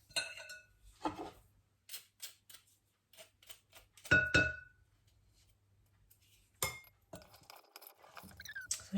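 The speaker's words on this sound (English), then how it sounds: "I'm just going to use a spoon just to coat them." A spoon folds ripe bilberries into a thick mixture in a bowl, with scattered light clinks and soft scrapes separated by quiet gaps.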